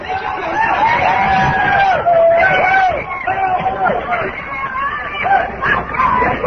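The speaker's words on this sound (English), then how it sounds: "Listen to the crowd." A studio audience roars and cheers steadily, a dense wall of crowd noise and shouts, loud and close throughout.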